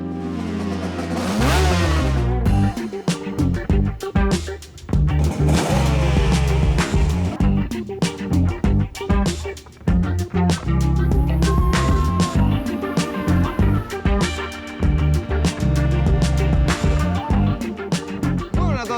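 Kawasaki KR1-S 250cc two-stroke motorcycle engine revving hard and loud up close, with repeated sharp rises and cuts in pitch, clattery bursts and brief drops between blips, and no talk over it.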